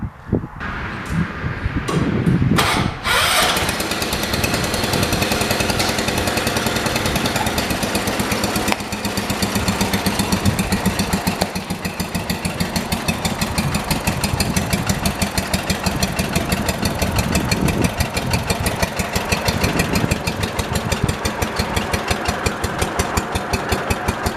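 A 1977 John Deere 212 lawn tractor engine, after sitting four months, starts with a few coughs, then runs loud and close with a rough, pulsing, uneven idle that keeps surging throughout.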